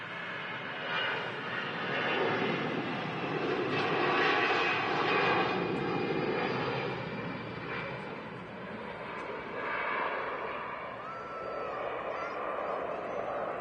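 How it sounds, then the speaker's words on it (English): A Lufthansa Airbus A380 departing Manchester Airport for Munich, a broad steady jet engine roar that holds at a distance for the whole stretch, swelling slightly and easing, with no talk over it. "It's an A380 heading off to Munich."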